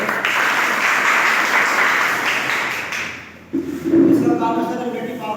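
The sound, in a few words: audience applauding at product seminar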